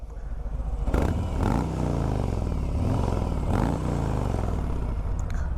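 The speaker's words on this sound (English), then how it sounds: "I do like the exhaust on it." A 2019 Harley-Davidson Electra Glide Standard motorcycle exhaust idles with a loud, steady low rumble, blipped up and down in a few revs that rise and settle, close by with no talk.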